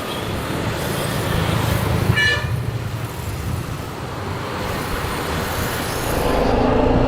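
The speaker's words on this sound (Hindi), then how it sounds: "बहुत ट्रैफिक है और शोर जो है आप सुन रहे हैं।" Heavy street traffic in Mysore, India, rumbles steadily with buses and cars. One short horn toot sounds partway through a continuous roar of engines.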